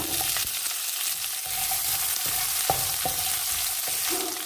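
About fifteen small shallots fry in hot oil with ginger and garlic for a Kerala-style roasted coconut chicken curry, giving a steady close sizzle broken by a few soft scrapes of a spoon stirring the pan.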